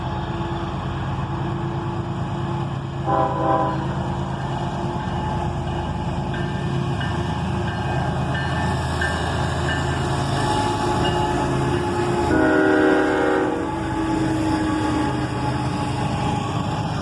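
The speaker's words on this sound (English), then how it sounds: "an auto-rack train with a pair of ES44 ACHs leading and then an SD40-3 rebuild." Auto-rack freight train rolling past with a pair of ES44AC locomotives and an SD40-3 rebuild, a loud, steady rumble of wagons with two brief horn-like tonal bursts partway through and no talk.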